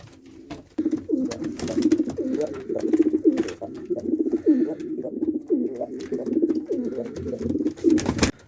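Platinum and white-tailed tumbler pigeons coo repeatedly at close range, soft throaty rolling calls overlapping in a continuous rhythmic stream, with occasional faint rustling and clicks.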